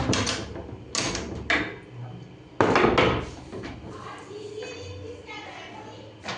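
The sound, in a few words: wooden door bolt (latch) being unfastened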